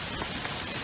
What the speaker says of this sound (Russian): А дождик такой, сильнее и сильнее все идет.